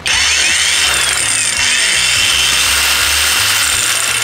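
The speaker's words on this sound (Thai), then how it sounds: "ตัวลูกหมูไร้สายของโอซึกะนะครับสามารถปรับรอบความเร็วได้ทั้งหมด3ระดับนะครับ" An OSUKA cordless brushless angle grinder, rated to 8,000 rpm with three speed settings, runs continuously and close, its high-pitched whine steady and loud throughout without talk.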